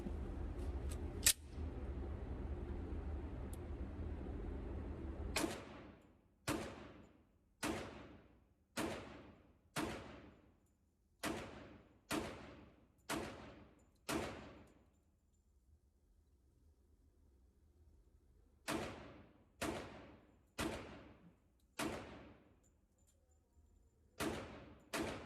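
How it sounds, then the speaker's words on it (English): Gunshots from a magazine fired without a muzzle brake: sharp, loud cracks at an even, steady pace, about ten in a first string, then a quiet pause and roughly eight more. "I'm going to try a magazine without the muzzle brake."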